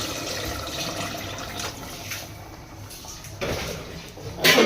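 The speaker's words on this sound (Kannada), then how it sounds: "ಈಗ ಅಕ್ಕಿಗೆ ಎಷ್ಟು ನೀರು ಬೇಕಾಗುತ್ತೋ ಅಷ್ಟು ನೀರು ಹಾಕೊಂಬಾನಿ" Water runs and splashes into a pot of rice, uneven bursts of pouring with some clatter near the end; no talking.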